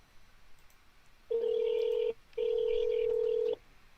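A telephone call rings out on the line, two steady electronic tones, the first about a second long and the second longer, after a short gap, clear against a quiet background.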